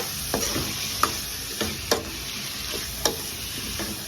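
A spoon scrapes and stirs through spiced potatoes with turmeric and coriander powder in a frying pan, several distinct knocks against the metal over a steady, close sizzle of frying.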